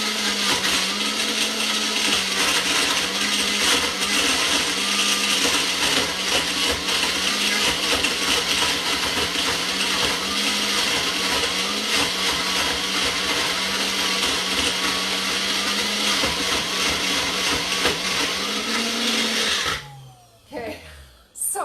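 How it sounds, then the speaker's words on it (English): A high-powered blender runs loud and steady for about twenty seconds, churning zucchini chunks with a dense, roaring whir before it cuts off abruptly near the end. "so this is a miracle blender"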